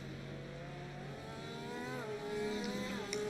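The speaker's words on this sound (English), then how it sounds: "I love the sounds of these Porsches as they come down the hill." Porsche GTE race cars with 4-liter rear-mounted flat-six engines coming downhill at Laguna Seca, a steady loud engine note with pitch sweeping up and down as the cars pass and shift, no talk over it.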